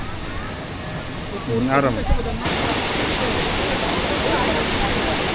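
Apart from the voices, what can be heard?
Kondeshwar waterfall, Badlapur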